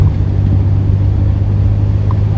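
A 1985 Pontiac Fiero GT cruising steadily along a Kentucky backroad on State Route 22, its low engine drone and road rumble holding constant and close throughout, with no voices.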